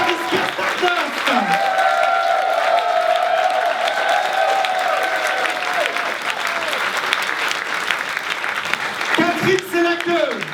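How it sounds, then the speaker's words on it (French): A theatre audience at a glitter cabaret show applauds loudly and steadily for about ten seconds, with dense clapping and some cheering. A voice rises briefly through the applause. "je voudrais vous demander de les applaudir extrêmement fort ce soir"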